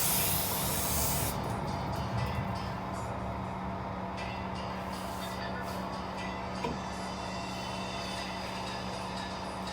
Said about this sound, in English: I'm gonna spray off the shipping oil.